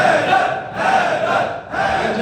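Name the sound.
crowd chanting religious slogans Haidar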